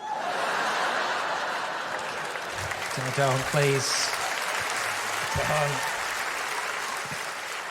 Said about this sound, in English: You'll watch it back and you'll hate yourself for clapping at that.